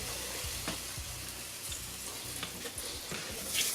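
Eggs frying in a little oil in a pan while making pasta kottu, a steady close crackling sizzle with soft stirring scrapes and occasional sharper pops throughout.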